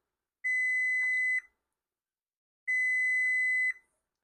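A multimeter's continuity tester beeps twice while probing the positive side of a leaf blower switch, two clean, steady electronic tones about a second long each, separated by a silent gap.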